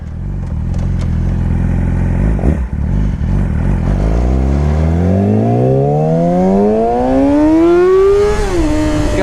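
A 2014 Yamaha R6 sport motorcycle with a Yoshimura exhaust and no catalytic converter, deep and raspy, revs up loudly and steadily, the pitch climbing smoothly as it accelerates, then easing off near the end.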